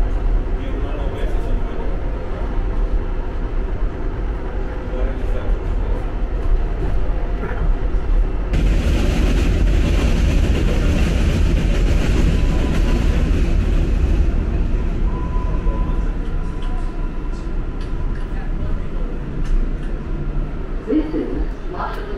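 Slow-moving New York subway 4 train arriving at Mosholu Parkway in the Bronx, with a continuous loud rumble and a louder hissing, screeching stretch in the middle as it brakes, with voices faint beneath.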